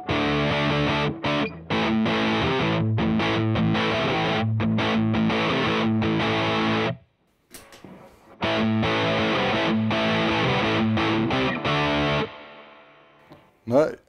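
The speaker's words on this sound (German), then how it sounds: "Ich spiele euch es einmal ohne Hall vor." An electric guitar plays dry through an amplifier with no reverb, a loud distorted riff of chords and muted stabs, cutting off abruptly midway before resuming, then ringing out to silence.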